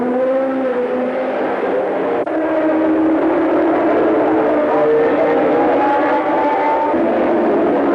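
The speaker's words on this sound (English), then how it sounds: "Brands Hatch race circuit, where the pace and the roar of Formula One cars enthrall thousands at the track" Formula One cars roar around the Brands Hatch race circuit in a steady, continuous engine drone that holds loud and even throughout, with no voices.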